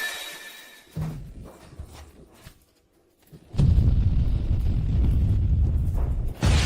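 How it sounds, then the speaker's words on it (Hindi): A fictional atomic bomb explosion: scattered rumbles give way to a brief silence, then a sudden loud, deep roaring blast that rolls on continuously and heavily until the end. "ये तो परमाणु बम है"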